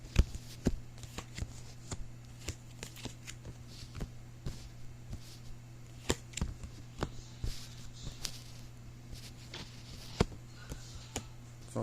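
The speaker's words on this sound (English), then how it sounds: "Just lay the cards down." Tarot cards being shuffled and laid down on a table, a quiet series of crisp, irregular taps and slaps spread throughout, close but soft over a low steady hum, with no voices.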